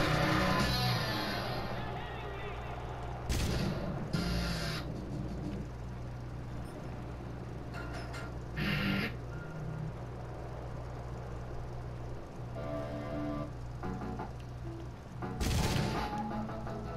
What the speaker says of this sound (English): Why does it keep firing my guns randomly?